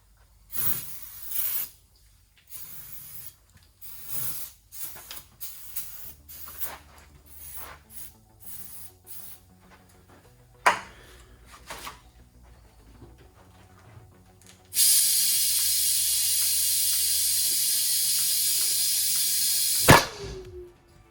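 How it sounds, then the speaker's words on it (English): Starter fluid is sprayed from an aerosol can onto a Miata tire to seat the bead on a tire machine. Scattered clanks and handling noises lead up to a loud, sustained hiss lasting about five seconds, which ends in a sharp burst. "so let's go ahead and get the starter fluid, and then let's see how this works out."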